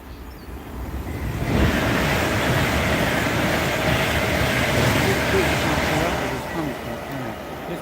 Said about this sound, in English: I can hear a train behind us.